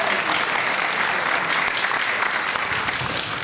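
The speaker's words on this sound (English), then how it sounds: "So let's give them a round of applause." An audience at an entrepreneurs' forum on food businesses claps in sustained, dense applause, loud and steady throughout with no voices standing out.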